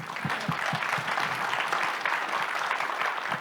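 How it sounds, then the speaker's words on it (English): An audience at an investment event for the Stara Zagora region applauds the speakers, a steady wash of many hands clapping with a few louder individual claps standing out. "A round of applause, please, for the speakers."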